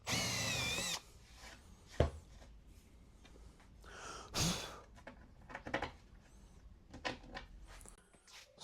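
Short bursts of a power drill biting into wood, separated by pauses and clunks, with a loud whine at the start; no one talks.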